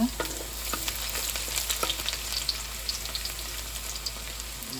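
Garlic sizzles steadily in a hot pan while a chicken curry is being cooked, with a dense, continuous crackle and a few sharper pops, close and fairly loud.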